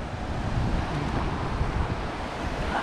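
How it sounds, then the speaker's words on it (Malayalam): Steady roar of the Orappan Kettu waterfall, a broad continuous rushing wash of falling water heard up close, loud and unbroken with no voices. "എന്തായാലും നല്ല വെള്ളച്ചാട്ടത്തിന് സൗണ്ടൊക്കെ ഉണ്ട് കേട്ടാ."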